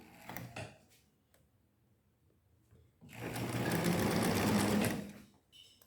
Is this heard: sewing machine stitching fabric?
yes